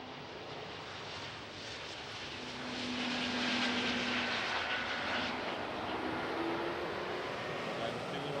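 A KLM airliner departing Schiphol's runway 36L for London Heathrow, a broad, steady jet roar that swells louder partway through and holds, heard at a distance with people talking faintly over it.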